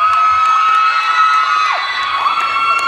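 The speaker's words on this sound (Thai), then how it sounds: "ท่านบุญส่งเตชมณีสถิตนะครับผมขอเสียงให้เขาด้วยครับผม" A large crowd at a cattle festival in Sakon Nakhon, Thailand, cheers and shouts loudly and without a break, with high whoops and children's voices rising through the roar.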